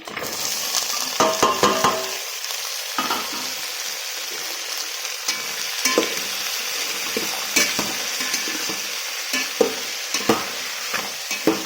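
Steady sizzling of carrot, green peas and potato frying in hot tempering oil for tomato rice, with a spoon stirring and scraping against the pan now and then, close and continuous.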